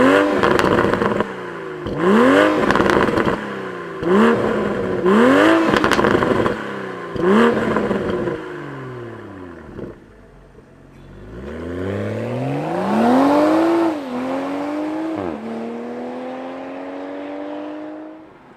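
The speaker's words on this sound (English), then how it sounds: "Let's start up and fire up this Toyota Supra" A 2022 Toyota GR Supra starts, then its engine gives a series of sharp, rising revs in quick bursts, settles briefly, and finishes with one longer, louder climb and fall, close and loud with no talk.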